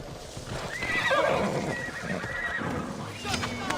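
Mounted guards' horses in the game Assassin's Creed Odyssey whinny loudly, with a long neigh and clopping hooves nearby, plus a second shorter whinny near the end over faint background game sound.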